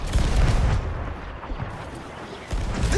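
Cannon fire from a cannon rowboat in Sea of Thieves: a few heavy booming shots, loud and close at the start, then rumbling quieter before another burst near the end.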